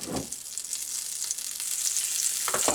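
Coconut oil sizzling in a hot waffle maker, a steady bright hiss with a couple of soft thumps near the start and end, close and continuous with no voices.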